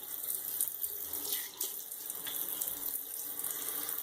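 Hot water runs steadily from a bathroom tap into a sink during a shave with a modified Gillette Ball Tech razor, a continuous close splashing hiss.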